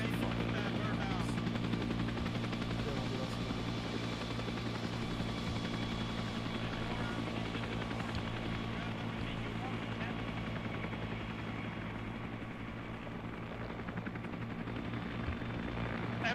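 A Huey helicopter in the military game ArmA drones with a steady, even rotor and engine hum that holds at constant loudness, while voices talk over it.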